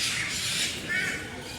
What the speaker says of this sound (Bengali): গ্রেট ইন্ডিয়ান হর্নবিল এই পাখিটির নাম